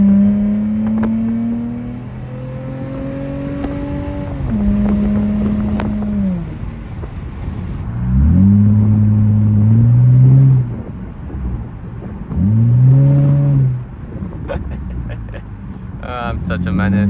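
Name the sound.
Honda V6 engine revving into VTEC while driving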